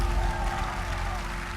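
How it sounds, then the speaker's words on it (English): Audience applause at a reality TV show event, a steady wash of clapping from a crowd lasting the whole brief moment, fairly loud and even, with a faint tone running underneath. "Clap."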